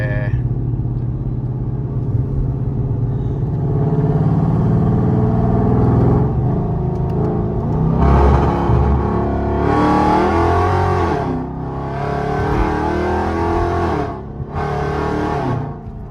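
Supercharged Dodge R/T car engine whining and revving while driving around LA, heard from inside the cabin with loud surges of acceleration and rumble, a few bursts rising sharply then dropping off.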